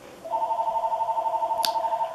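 A telephone rings indoors with a steady warbling electronic tone lasting about two seconds, loud and close, alone with a brief click near the end.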